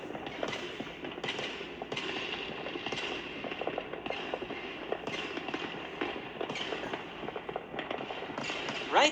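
Cartoon fireworks burst at a festival, a steady run of crackling pops and bangs layered densely over several seconds with no talk.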